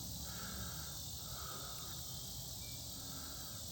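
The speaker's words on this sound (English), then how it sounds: "hear those cicadas?" Cicadas drone outdoors near a housing construction site, a soft continuous high-pitched buzz that stays faint and steady throughout.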